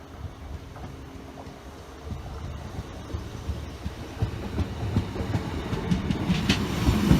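A Class 156 diesel multiple unit, 156 470, passes a level crossing with its motor droning and wheels clattering, growing steadily louder as it nears.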